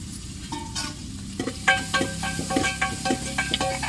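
Chicken gravy being stirred in a pan, a close sizzle broken by repeated spoon scrapes and clinks against the metal in an uneven rhythm, with no talk.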